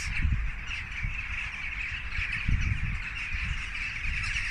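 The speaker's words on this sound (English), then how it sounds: "There's a lot of birds." Many birds calling at once in Tekirdağ, Turkey, a steady chorus of chirps and squawks with a few louder nearby calls standing out, no talking.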